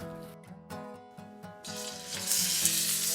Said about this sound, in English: I love using cast iron to sear my pork chops because it can take the heat